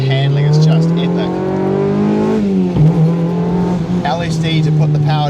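Engine of a Mazda MX-5 NC roadster with a limited-slip differential, pulling hard through the gears with a steady loud drone, a brief dip at a shift, then climbing again, heard from inside the car.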